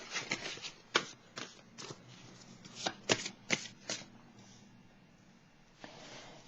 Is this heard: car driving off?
no